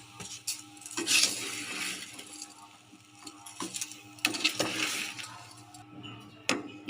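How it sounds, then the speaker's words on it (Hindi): Sugar tipped into a pot of sweet-and-sour mango chutney, with light clinks and scraping of a spoon against the metal pot in short bursts, fairly close and moderately quiet. "चीनी डाल देते हैं"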